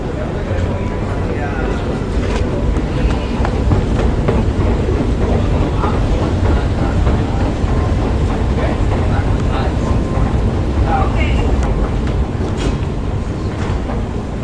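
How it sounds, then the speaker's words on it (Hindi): A Vienna U3 metro train at an underground station: a loud, sustained rumble and rolling roar of the train that fills the whole stretch, with indistinct voices mixed in. "अब इधर हम खड़े होके ट्रेन का इंतज़ार करेंगे।"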